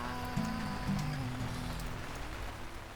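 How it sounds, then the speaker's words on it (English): Heavy summer rain falling outside, a dense continuous patter and wash heard steadily from indoors, even and moderately loud, with a faint low tone briefly underneath. "it is raining outside, and it is coming down"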